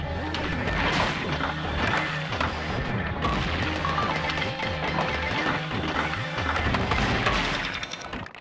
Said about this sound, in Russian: Три выстрела с пушки моей. Надо, чтобы убить.